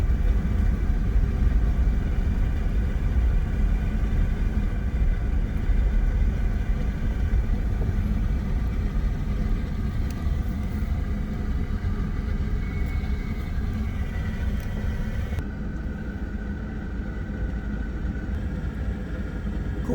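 A car drives through the streets of Dublin, Georgia, a steady low road rumble and engine drone heard from inside the vehicle, continuous and fairly loud with no talking.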